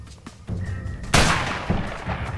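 Sniper rifle fire in A Way Out, a single sharp loud shot cracking out midway over background game noise, with a trailing echo and a fainter follow-up thump.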